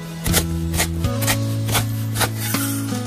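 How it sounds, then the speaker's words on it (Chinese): Squeezed-dry shredded radish is chopped on a cutting board with a cleaver, about seven evenly spaced thuds over a low steady hum, close and distinct. "接着再给它剁一剁，"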